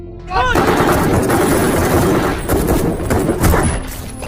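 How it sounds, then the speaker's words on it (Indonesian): A rapid burst of gunfire rattles continuously for several seconds, loud and close, like a film shootout, with a voice briefly mixed in. "Joseph berhasil menembaknya hingga tewas"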